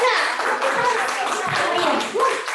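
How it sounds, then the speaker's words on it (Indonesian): A church congregation claps briefly, a dense patter of hands mixed with children's voices and cheering over a couple of seconds. "tepuk tangan dulu dong"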